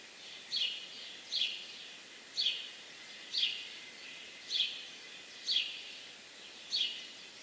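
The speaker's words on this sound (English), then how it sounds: "Yes, that is the house sparrow" A house sparrow repeats a single short chirp about once a second, seven times in a steady rhythm, fairly faint over a soft hiss of outdoor background noise.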